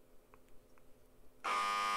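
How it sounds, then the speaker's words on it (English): A loud, harsh electronic buzzer blares suddenly after a quiet moment and holds steady, ringing with a reverberant, roomy tone. "somewhere in the dimness a buzzer sounds, reverberating through a spacious room"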